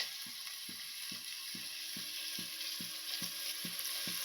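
Onions fry with curry leaves and turmeric in a pan, a faint hiss of sizzling running beneath an evenly spaced series of soft mechanical ticks, roughly two per second.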